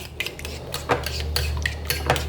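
Okra being stirred in a cooking pan for adobong okra, with repeated metal utensil scrapes and clinks against the pan over a low steady hum, no talking.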